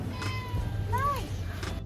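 A cat gives a single drawn-out meow on a quiet night street, moderately near, over a low hum of background noise.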